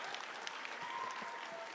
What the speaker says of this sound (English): So just a big round of applause for everybody that helped.